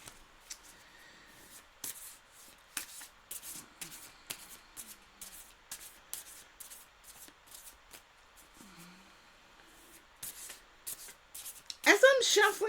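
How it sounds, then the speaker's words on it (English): Oracle cards are shuffled by hand in a series of short, dry riffling bursts with quiet gaps between them, and louder handling noise comes at the end. "as I'm shuffling the oracle"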